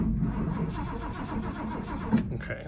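An abandoned Ford F350 pickup's engine cranks over steadily for a few seconds, a loud, even starter churn up close that does not catch, with a brief knock near the end.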